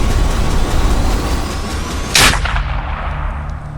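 A single loud sniper gunshot in a game cracks out against steady low rumbling background noise, followed by a brief fading echo.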